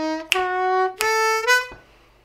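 Harmonica plays a boogie blues lick over the five chord, a few loud, bright held notes with sharp attacks, close and alone, ending in a brief fade.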